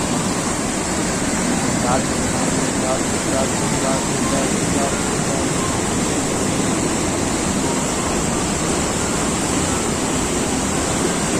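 A river swollen after heavy rain rushes past in a steady, loud, broadband roar of churning water that fills the whole stretch without a break.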